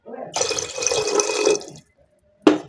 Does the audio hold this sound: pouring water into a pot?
yes